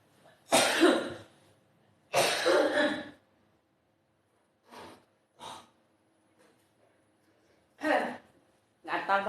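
Harsh coughs and throat clearing from someone with an itchy throat recovering from a cough, two strong bursts followed by several shorter, quieter hacks with silences between.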